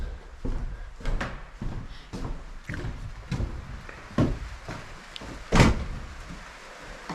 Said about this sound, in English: make sure you shut these doors